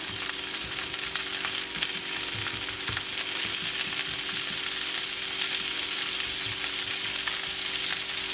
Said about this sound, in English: I'm going to add a little bit of my peas to the pan.